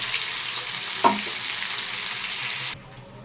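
Meat chaap fries in a pan over a low flame, a close, steady hiss of sizzling oil with one brief clack partway through before it drops away.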